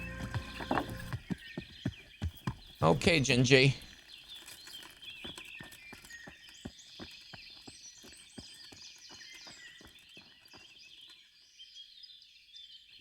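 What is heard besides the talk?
horse hooves clip-clopping in a video game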